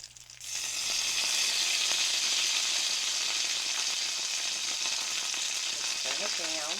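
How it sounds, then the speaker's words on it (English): An egg fries on a small electric skillet with a loud, continuous crackling sizzle heard up close, and a voice speaks briefly over it near the end. "See the yolk right there when you touch it? It's still really runny and soft, but the edges are getting a little bit too brown"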